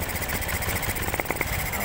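A Honda Beat scooter with a hard-starting, misfiring engine running close by, an uneven mid-pitched idle with a few sharp knocks and bursts, under light background noise.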